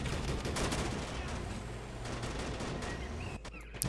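Machine gun fire in the Men of War: Assault Squad game, dense rapid bursts of shots layered over a continuous low rumble of battle, loud and unbroken for several seconds.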